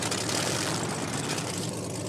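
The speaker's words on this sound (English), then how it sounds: "The Edge 540 is one of the world's fastest, most maneuverable aerobatic planes." An Edge 540 aerobatic plane's propeller engine drones in a loud, continuous, steady roar, close and unbroken, with no voices.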